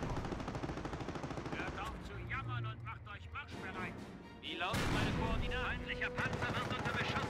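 Gunfire and tank cannon blasts in the World War II strategy game Company of Heroes, dense rattling shots with a heavy boom partway through while someone talks over the battle.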